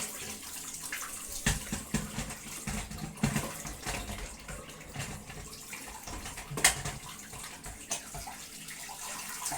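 Water runs steadily into a very small sink, a continuous close splashing stream with a few louder sloshes and splats over the flow.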